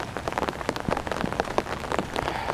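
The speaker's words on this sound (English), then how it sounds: "a little quick nature walk in the rain" Rain falling outdoors on a spring walk along a river trail in city gardens, a dense patter of drops striking nearby surfaces with irregular close splats, steady and moderately quiet, with no voices.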